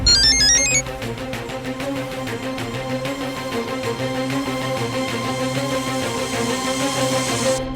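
A mobile phone ringtone plays loud and close. A bright chiming phrase opens it, then a steady, sustained electronic melody carries on for several seconds with no voices over it.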